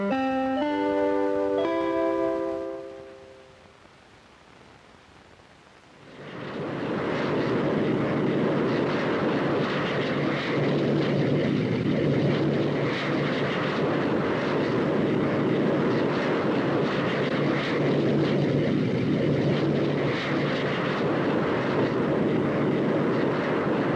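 A fixed-wing airliner's engines roar steadily and loud at close range, following a short musical intro and a brief quiet gap, from a 1978 educational film on aerodynamics and how airplanes fly.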